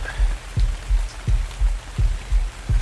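Rain falling in the video game ARK: Survival Evolved, a steady wash of drops with recurring low thumps at a regular pulse, moderately loud and with no talking.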